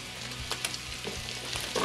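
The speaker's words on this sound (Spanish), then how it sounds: "Ya que nuestro chorizo empezó a tirar su jugo, tiramos nuestro suadero para sartenearlo." Suadero and chorizo sizzle and fry together in a pan for homemade tacos, a steady close crackle with brief louder pops and spatters.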